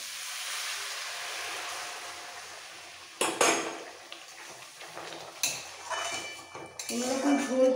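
A utensil stirs spiced sour-hot potato dum in a pan after a little hot water is added, making intermittent metallic scrapes and clinks that grow busier toward the end over a soft background hiss.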